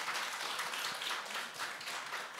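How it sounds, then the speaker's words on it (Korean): A church audience at a women elders' worship service claps to welcome a performer, a soft, fairly distant patter of many hands that stays steady with slight swells. "박수를 한번 부탁드릴게요."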